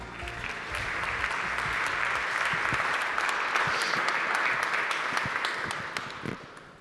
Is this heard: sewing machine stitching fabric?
no